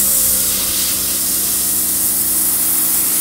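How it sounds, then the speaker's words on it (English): Airbrush spraying thin paint at low pressure onto an Eduard Messerschmitt 109K scale model, a steady loud hiss of air that runs unbroken throughout with no voice over it. "when you have it low pressure and you spray thin"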